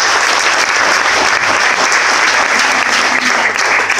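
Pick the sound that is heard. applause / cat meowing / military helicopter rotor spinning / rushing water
applause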